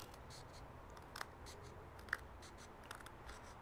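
Scissors trim the edge of cardstock for a simple sympathy card, giving a couple of brief, crisp snips at a craft table against a quiet room background, with no talking.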